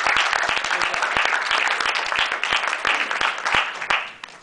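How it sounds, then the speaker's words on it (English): Audience applause at a university student policy group's event, a dense, steady clapping from a room crowd that fades out near the end. "let's give a big round of applause to our tireless events director, Kate"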